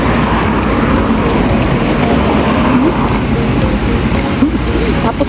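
Steady road traffic rolls past on Cantonment Road near the Pinnacle at Duxton in Singapore, a continuous close wash of engines and tire noise, with a person talking over it.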